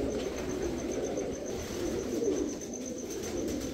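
Teddy Kalsira pigeons with thorned feet coo softly and continuously nearby, a low murmuring burble held against a faint steady background.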